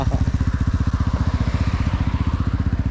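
A motorcycle engine chugs loudly and steadily close by, its rapid rhythmic firing continuous throughout.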